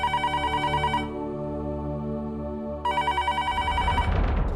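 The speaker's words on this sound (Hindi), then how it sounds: "फोन देखना, फोन आ रहा है" A telephone bell rings in repeated bursts, pauses for a couple of seconds, then rings again, loud and close, with a clatter at the end.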